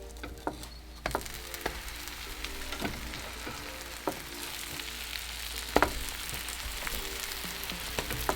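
A croque madame sandwich sizzles and crackles steadily in a frying pan as it toasts, with a few sharp ticks and pops scattered over a low, even frying hiss.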